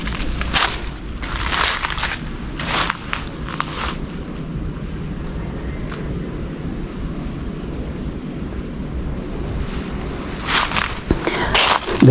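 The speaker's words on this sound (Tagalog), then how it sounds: "Mukhang may narinig akong mga yapak. Mukhang may naglalakad." Footsteps crunch across the ground of a cemetery, a few irregular steps early on and more toward the end, moderately close over a steady outdoor wind rumble with no talking.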